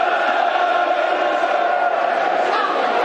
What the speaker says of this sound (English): Crowd getting behind the game